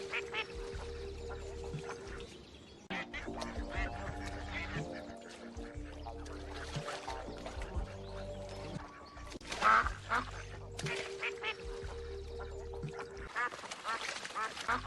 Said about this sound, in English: these 2 wild ducks landed in my pool